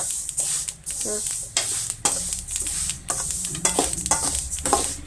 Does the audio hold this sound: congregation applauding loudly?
no